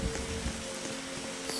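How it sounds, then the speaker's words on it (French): Steady rain falls in the survival video game 99 Nights in the Forest, a constant close hiss of drops on surfaces with no talk over it. "Oh non, non, non, il pleut, sérieux."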